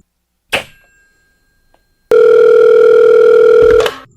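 A steady telephone dial tone hums loud and continuous on the phone line for about two seconds, cutting off abruptly, after a brief click or handset clatter earlier.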